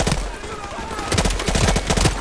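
Gunfire in Call of Duty Modern Warfare Remastered, with rapid automatic bursts crackling in clusters, loud and close, mixed with game noise throughout.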